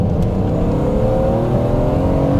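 The S54 engine of a BMW Z3M Coupe revs loud and close from inside the car, a steady high-pitched mechanical howl that climbs gently in pitch without letting up, and no one talks.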